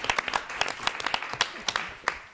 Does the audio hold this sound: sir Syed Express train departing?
no